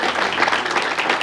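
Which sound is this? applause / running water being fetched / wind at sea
applause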